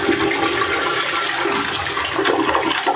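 A toilet flushes after being unclogged, a steady loud rush of swirling water running throughout with no voices.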